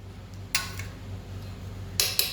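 A utensil clinks against a bowl while stirring an omelette egg mixture with chopped chili, giving a few sharp, isolated metallic taps over a quiet kitchen background.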